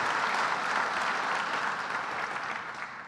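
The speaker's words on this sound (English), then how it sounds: "let's give them a round of applause and thank them for everything they do" Sustained applause from a crowd at a building trades dinner, steady and fairly loud across the whole stretch, then tapering slightly at the end.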